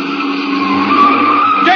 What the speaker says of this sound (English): You turned that corner on 2 wheels.